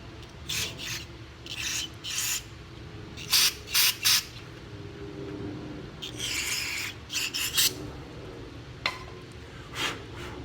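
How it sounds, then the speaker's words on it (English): Hand picks scrape old gasket residue off a part from a 1995/1996 Toro Super Recycler lawn mower engine, giving short raspy strokes in irregular bursts, close and fairly quiet, with no talking. "Now you need to clean it out to remove anything that might be left over from the gasket."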